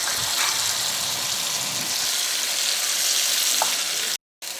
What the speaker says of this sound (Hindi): अच्छी तरह इसे भून लें